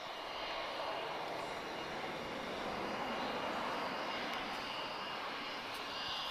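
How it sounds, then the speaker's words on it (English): A big Boeing airliner approaching Lisbon Airport sounds as a distant, steady engine roar and rush that holds level throughout, heard from outside without talk. "So I see something very big and very Boeing in the distance."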